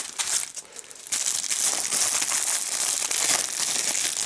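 Plastic packaging crinkles steadily as a Humblewood D&D 5e campaign setting box set is opened, a dense close rustle that grows louder after the first second and keeps going without pause.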